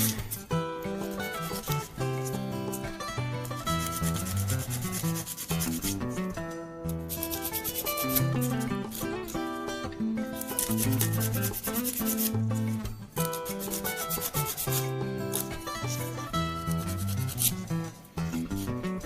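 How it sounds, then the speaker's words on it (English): Continuous scratchy rubbing of a file shaping the side of an acrylic nail at an angle, quick back-and-forth strokes running under loud background music. "I'm only going to file in on that side on an angle"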